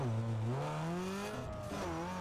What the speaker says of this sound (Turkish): Arabanın sesi bu arada gayet güzel.